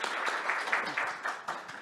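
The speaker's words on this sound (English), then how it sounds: "I think a big applause to her." A brief round of audience applause at a diplomacy workshop, soft and fairly distant, with steady clapping throughout a short burst.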